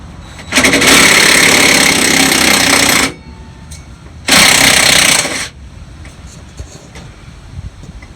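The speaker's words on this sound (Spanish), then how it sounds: "Gonzalo ya tiene la llave número 22." A loud powered wrench rattles away at the shock absorbers on an Iveco Eurocargo truck, hammering in two long bursts of roughly two and a half seconds and one second, with faint workshop clatter in between.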